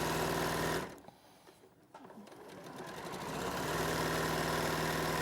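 A sewing machine runs fast and steady stitching a quarter-inch quilt seam, stopping briefly, then whirring back up to a loud continuous hum.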